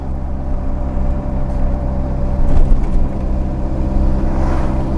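Toyota AE86 cruising on the road, a steady low engine drone and road rumble with a faint mid hum, fairly loud and even throughout with a slight swell midway.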